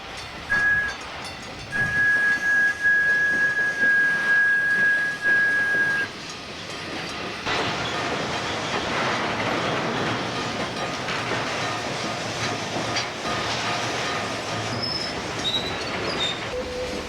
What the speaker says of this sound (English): A highway crossing bell and a caboose whistle warn us that the rear end is approaching.